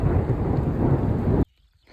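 Heavy rain pours down with thunder rumbling through it, loud and continuous for most of the stretch before cutting off abruptly to near silence.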